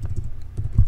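Computer keyboard keys typed rapidly while entering CAD commands, a quick run of close, soft clicks and taps with no voices.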